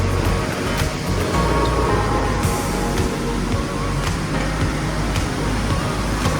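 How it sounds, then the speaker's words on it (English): Continuous rushing water spray inside a chemical metal-etching machine, a steady loud wash with mechanical hum and occasional clicks. "The water will be drawn out and then sprayed or soaked."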